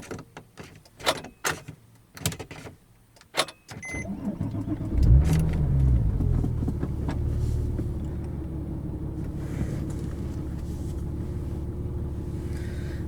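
A Porsche 911 Turbo 997TT engine cranks and fires up after a few seconds of clicks and handling noise, settling into a loud, steady, rumbling idle close by.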